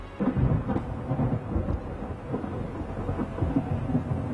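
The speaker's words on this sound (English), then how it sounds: "Emperor Yongle never expected that on a stormy night, 3 months after the Forbidden City was completed, 3 of its halls would be struck by lightning and burned to the ground." Thunder rolls through a stormy night, a low, continuous rumbling with rising and falling swells and no distinct sharp crack, steady and moderately loud for several seconds.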